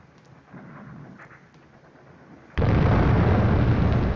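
Artillery in the Desert War 1940-42 wargame, first as a low rumble, then as a sudden loud blast that keeps roaring with heavy noise to the end.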